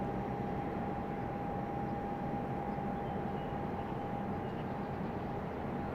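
A Frontier Airlines airplane flies in the distance near Raleigh-Durham International Airport, giving a steady, far-off drone with a faint sustained tone that holds level throughout, with no voices.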